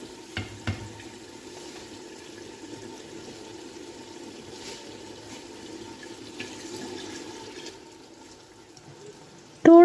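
Meat for katwa gosht fries and is stirred in a pan, a steady soft sizzle running throughout with a few sharp clanks of a utensil near the start and a louder scrape at the very end.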